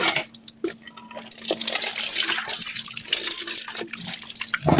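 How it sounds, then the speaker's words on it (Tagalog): Cut chicken being washed under a running kitchen tap, a steady close rush of water with splashing and dripping as the pieces are handled. "hugasan ko na mga kanelman"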